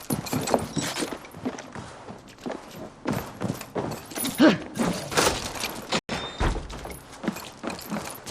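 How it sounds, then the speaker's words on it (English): Horse hooves clatter in a fast irregular rhythm as a mount sets off in Assassin's Creed Valhalla, loud and close and mixed with other game effects, with no talking. "Basim, Eivor, to horse!"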